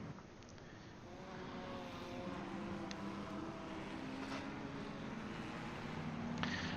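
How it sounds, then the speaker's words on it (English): Race car engines on the Daytona road course make a steady distant drone that slowly swells as the cars come round, with a faint rising whine toward the end. "Got to love the sound of those engines"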